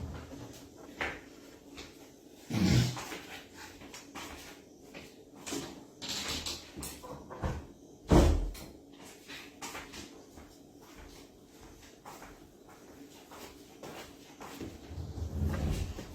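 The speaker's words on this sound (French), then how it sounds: "je ferme la porte." Indoors, a door is shut with a couple of muffled thumps and knocks, one near the start and a sharper one midway, set against quiet room noise and no talk.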